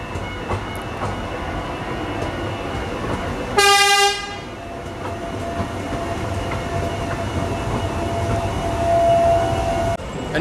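A Tyne and Wear Metro train near a level crossing sounds a single short, loud horn blast, then rumbles past steadily, with a high tonal whine rising toward the end.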